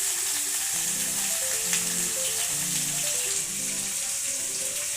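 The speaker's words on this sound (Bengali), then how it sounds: "আলুটা ওদিকে ভাজা চলছে" Thinly sliced medium potatoes fry in hot oil, producing a dense continuous sizzle that stays even and close throughout, with no one speaking.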